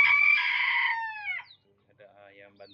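A rooster crows loudly and close for over a second, followed by softer clucking from ornamental chickens of bantam cochin and kating breeds, with faint voices in the background.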